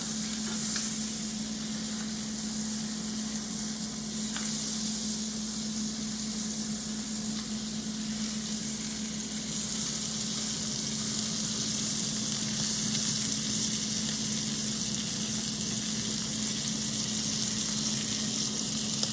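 A steady, even sizzle of steak frying in butter in a pan, a continuous close hiss with slight flutter and no talking over it.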